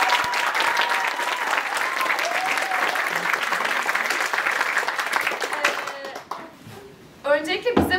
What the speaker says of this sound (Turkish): Bir alkış alayım.